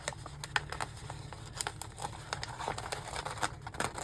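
Planner paper pieces cut with scissors, short crisp snips and rustles coming irregularly up close at a low level.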